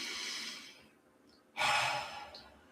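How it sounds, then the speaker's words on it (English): Two deep breaths during a guided grounding meditation: a long, airy inhale-like rush, a quiet pause, then a louder, fuller exhale-like breath, close and alone with no talk. "And take a deep breath."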